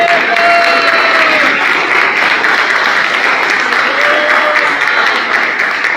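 A church congregation applauds during a worship service, with a continuous wash of crowd clapping that holds steady throughout and faint voices mixed in.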